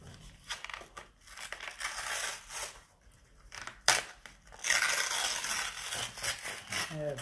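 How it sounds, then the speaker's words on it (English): A trading card pack is torn open up close: crinkly foil crackles and rips, with irregular tearing bursts and short pauses. "That's it, just rip it open."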